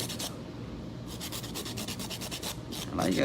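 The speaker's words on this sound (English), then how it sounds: "Yes, it's drilling time." An electric nail drill files acrylic stiletto nails in short, repeated bursts of fine, high whirring abrasion, close and fairly quiet, with brief pauses between passes.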